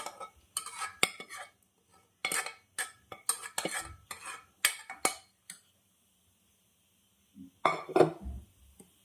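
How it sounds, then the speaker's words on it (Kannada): A spoon stirs cooked dal into a pot of vegetable curry, with bursts of metallic scraping and clinking against the pot in irregular strokes, pausing between rounds, close and fairly quiet. "ತರಕಾರಿ ಜೊತೆಗೆ ದಾಲನ್ನ ಒಳ್ಳೆ ಮಿಕ್ಸ್ ಕೊಡೋಣ."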